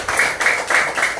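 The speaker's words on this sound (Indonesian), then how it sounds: "Kita kasih tepuk tangan buat kita semuanya." Group clapping from a school Paskibra flag-raising troop, Patriot Bintaro 12, in four crisp rhythmic bursts about a third of a second apart, close and fairly loud.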